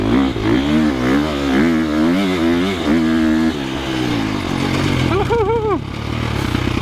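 Close, loud engine of a 2025 KTM 350XCF dirt bike ridden over bumps, with rising and dropping revs that settle to a steadier drone, then a brief sharp high rev burst near the end.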